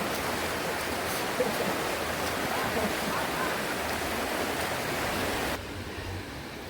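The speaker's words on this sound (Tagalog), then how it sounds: "Ito ang kalagayan ng ilog ngayon ng Montalban." The Montalban river near Puray Falls rushes in a steady, dense roar of flowing water, even and unbroken, then drops slightly quieter near the end.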